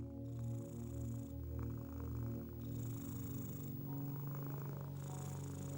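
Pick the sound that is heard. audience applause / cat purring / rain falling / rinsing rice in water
cat purring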